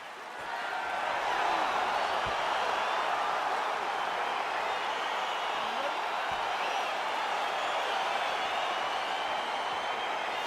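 Arena crowd noise from EA Sports UFC 4 fills the space as a steady, broad roar of cheering and murmuring, with scattered clapping and whoops holding at an even level throughout.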